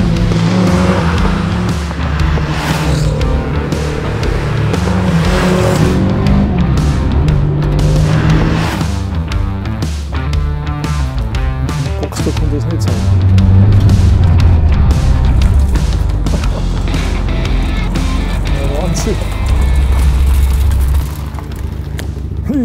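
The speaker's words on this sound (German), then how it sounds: "Ja, klasse, also Auto läuft perfekt, Motor geht richtig gut, Getriebe geht gut." A Porsche 924 Carrera GTS rally car drives hard, its engine roaring loud and close through repeated revs and gear changes, with tire squeal and skidding as it works through turns.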